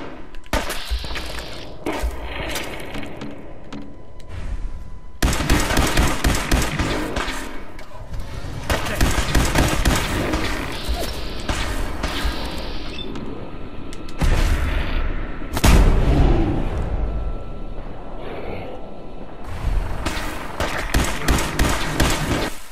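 Gunfire and heavy booms from Fallout 4 combat, dense, loud and continuous for most of the stretch, with sharp cracks and blasts in bursts and a sustained din beneath.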